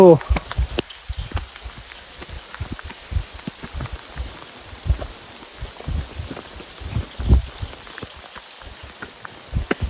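Rain falls steadily at Tikleshwar temple near Devrukh on a foggy hillside, a close, continuous patter of drops with scattered sharper taps, while voices speak now and then.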